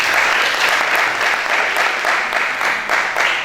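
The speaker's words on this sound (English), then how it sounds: "Please clap for him," Loud, steady applause fills a university hall during a Rotaract club charter ceremony as the audience honors its advisor, with many hands clapping continuously and closely and no voices standing out.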